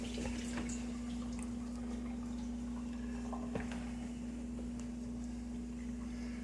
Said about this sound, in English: Give it a thorough rinse.